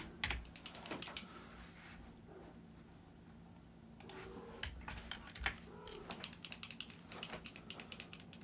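Quiet computer keyboard clatter in irregular bursts of key presses, with pauses between flurries, close and fairly faint with no talking.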